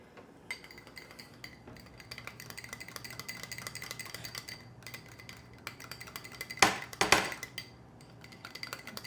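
Melted melt-and-pour soap being stirred in a container, soft scraping with light utensil clinks that build into a louder burst of rapid tapping before settling again.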